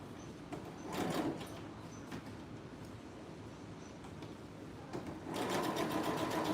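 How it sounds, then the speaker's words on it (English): Sewing machine running steadily while stitching a slanted skirt seam, a continuous close mechanical whir that swells louder near the start and again toward the end, with no talking. "So I'm sewing it slant, and I'm gonna stop right where the pin is."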